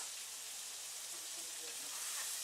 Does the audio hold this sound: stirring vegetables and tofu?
yes